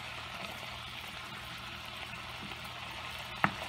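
Lemon garlic cream sauce for shrimp scampi simmers and reduces in a pan, giving a soft, steady bubbling hiss at low volume, with one small sharp clink near the end.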